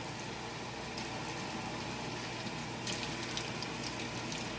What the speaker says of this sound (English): And let's just go ahead and pour it right in.